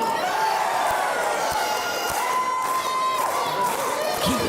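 Arena crowd at a Paul Malen versus Joey Ozbourne wrestling match, loud and continuous cheering and shouting throughout, with a few sharp thuds from the ring cutting through the roar.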